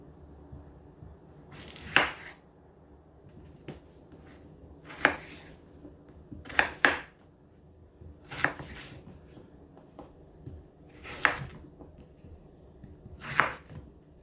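A knife chops a full-size potato into large pieces on a board, giving six sharp, separate thunks spaced a second or two apart against a quiet kitchen background.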